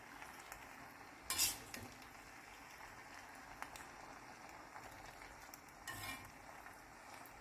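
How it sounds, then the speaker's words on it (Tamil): Pasta is stirred through masala in a pan over low heat, with a soft continuous sizzle and scraping, broken by two brief louder clatters of the spoon. "இப்போ இந்த மசாலாவில் நல்லா மிக்ஸ் பண்ணிகிட்டே வாங்க"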